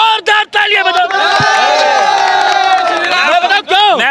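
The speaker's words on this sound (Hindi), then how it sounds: "जोरदार तालियां बजाओ।" A large crowd at a political rally roars, cheers and whoops loudly and continuously, with shouted voices mixed in and a few brief dips. Applause is not clearly separable from the shouting.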